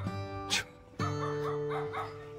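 A small puppy outside a Himalayan temple in Uttarakhand on a rainy day gives short, high yips and whiny barks in a couple of bursts, close and moderately loud.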